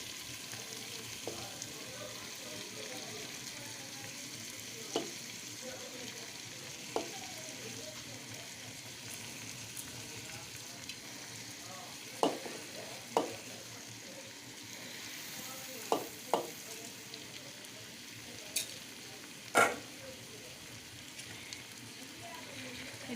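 Chicken biryani rice and fried meat in a pressure cooker hiss softly and steadily while a spoon scrapes and knocks against the pot at scattered moments, fairly faint with no talking.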